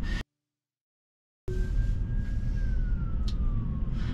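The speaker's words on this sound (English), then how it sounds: "There's an ambulance." An ambulance siren wails from the right with a steady tone that slowly drops in pitch, heard over continuous road and traffic noise after a brief silence.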